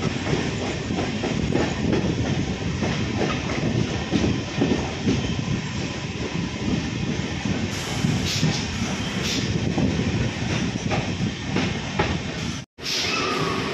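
A Howrah–Purulia local train pulls into platform 1 at Adra station, with a loud, constant rumble and wheel clatter that fills the whole stretch before cutting off abruptly near the end.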